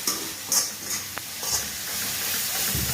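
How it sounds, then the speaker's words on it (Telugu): Garlic frying in oil for a flattened-rice (poha) tempering gives a steady close sizzle and hiss, with a few stirring scrapes and soft clinks over it throughout. "ఎల్లిపాయ కొంచెం మంచిగానే మాడిపోకుండా మంచిగా ఫ్రై కావాలి"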